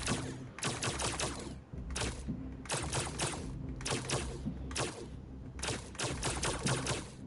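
The Hellboy character in the PlayStation game Dreams fires bolts in rapid, crackling bursts, clustered volleys repeating loudly every second or so with brief gaps between.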